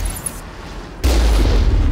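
An explosion goes off in the Mass Effect video game, a sudden loud blast that breaks a quiet background and swells into a sustained, rumbling roar.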